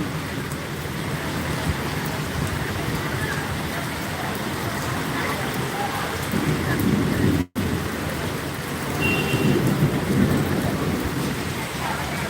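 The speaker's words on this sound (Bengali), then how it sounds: "হেদুয়া কলকাতাতেও প্রচণ্ড বৃষ্টি হচ্ছে" Heavy rain pours steadily in Kolkata, a loud dense wash that carries on without a break, with a brief dropout partway through and faint voices mixed in.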